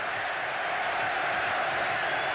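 A standing arena crowd of 20,026 at the Coliseum fills a timeout late in a 1988 Cavaliers–Bulls playoff game with a dense, steady roar of chanting that holds for the whole stretch without break.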